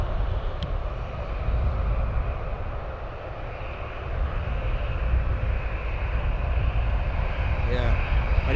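A propeller aircraft taking off from Luton Airport on a straight-out departure, a loud steady engine drone throughout with a brief faint voice near the end.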